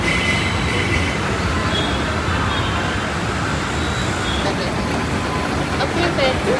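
A metro train at the Ahmedabad riverfront rumbles past in a dense, continuous roar with faint wheel squeal, loud and close, while people talk beneath the noise.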